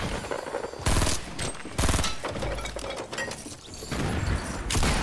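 Rapid Fortnite Battle Royale gunfire rattles in loud, close bursts, with sharp cracks mixed with glassy, shattering impacts and short pauses between volleys.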